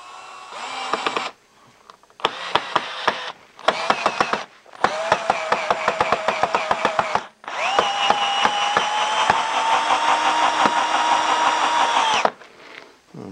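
A DeWalt cordless screwdriver drives a screw in several short whirring bursts followed by a longer sustained run, with ratcheting clicks throughout, loud and close with no talking.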